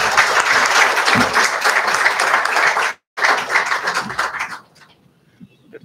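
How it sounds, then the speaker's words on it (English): An audience at a public sector audit and corporate governance lecture breaks into loud, dense applause that cuts off abruptly, resumes, then fades to near silence. "I want to have a very respectful applause for sir"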